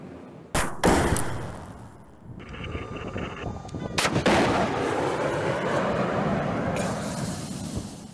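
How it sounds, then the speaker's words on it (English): Sharp firing blasts from a live-fire exercise against launched drones, a loud crack near the start and another midway, each followed by a long rushing roar and rumble that fills the scene. "Outlaw drones are launched for a live firing exercise."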